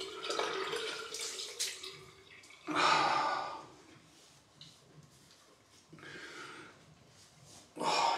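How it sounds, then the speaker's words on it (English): Cold water splashes and runs during a rinse at the end of a wet shave, coming in several separate bursts with quieter gaps between them and no talk. "Do like the cold rinse. It's one of the best bits of the shave for me."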